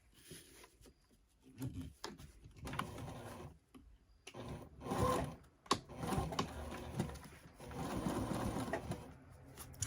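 A sewing machine stitches a crossbody bag lining in bursts of rapid mechanical running, stopping and starting with short pauses between runs, close and clear without talking.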